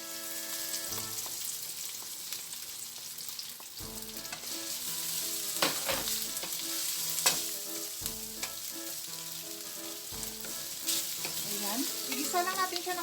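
Luncheon meat sautéing in a pan for bihon guisado, a steady close sizzle with frequent scraping stir strokes and light clinks running throughout.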